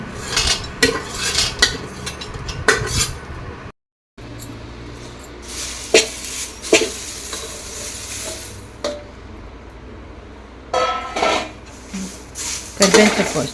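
Sambar powder spices roast in a pan as a utensil scrapes and clatters against the metal in irregular bursts over a soft sizzle, close up, with a brief silent gap partway through.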